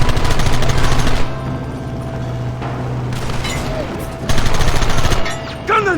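Dense rapid gunfire from a Red Dead Redemption gunfight, loud and close: sustained bursts of overlapping shots, a brief lull, then another heavy volley near the end, with faint shouted voices mixed in.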